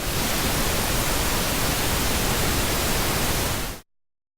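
Steady, loud white noise hisses evenly across the whole range, then cuts off abruptly into silence near the end.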